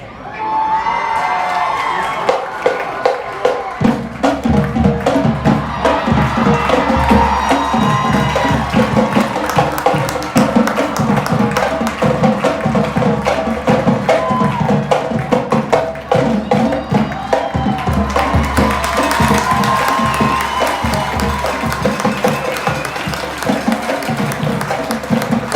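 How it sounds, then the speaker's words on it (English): A large stadium crowd applauds and cheers for the Lincoln High School Marching Blue Band after its funk number, sustained loud clapping with whoops and shouts rising and swelling, and a low band rumble underneath. "How about another round of applause for the Lincoln High School Marching Blue Band?"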